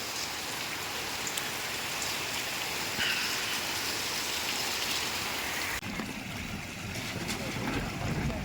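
Steady patter of rain falling outdoors, a dense even hiss of raindrops on surfaces, continuous and moderately close, briefly dipping in texture near the end.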